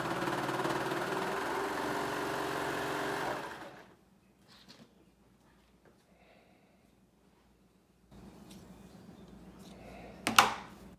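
Serger sewing a reusable fabric face mask, a loud steady mechanical whir for several seconds that stops, followed by quiet handling and a brief restart with a sharp rise near the end.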